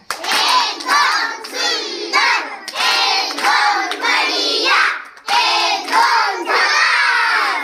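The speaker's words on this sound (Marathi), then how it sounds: "एक झकास टाळी वाजवायची आहे" A group, likely children, claps together in a game activity, producing loud bursts of dense applause with short pauses between rounds and occasional shouts mixed in.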